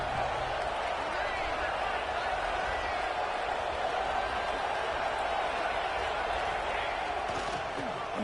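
Roar of a football stadium crowd cheering on the defense ahead of a red zone stop, a dense, steady wash of noise with no letup, under a play-by-play commentator's voice.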